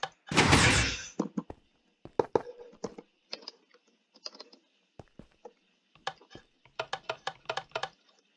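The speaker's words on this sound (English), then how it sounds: "that is the easiest 2x2 piston flush door physically possible in Minecraft" A loud sliding whoosh opens a Minecraft 2x2 piston flush door, followed by scattered clicks and mechanical clacks, then a quick rhythmic run of sharp ticks like pistons firing.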